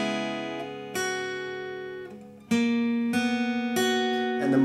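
Single melody notes of The Only Exception by Paramore picked on guitar, ringing and overlapping. Several clear plucks, each sustained before the next, played slowly and alone without talk.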